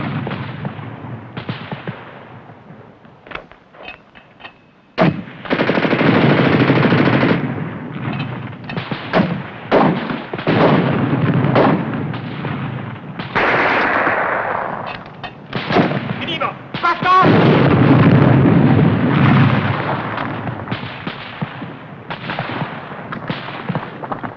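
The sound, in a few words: gunfire in 1951 war film battle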